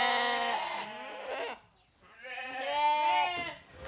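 Ewes on a farm in Provence bleating in two long, loud, wavering calls close by, separated by a short quiet gap.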